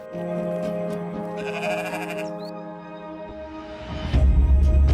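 Garut sheep on a farm bleat in long, drawn-out, wavering calls, loud and close, with a burst of rough noise near the end.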